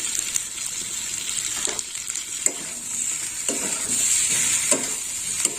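Masala and prawns sautéed in a pan with three kinds of vegetables, giving a steady loud sizzle and frying hiss with repeated scraping stirs of a spoon against the pan.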